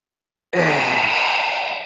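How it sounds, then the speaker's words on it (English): A single long, deep breath drawn in and let out after a short silence, close and steady, fading slightly at the end. "Take a deep breath."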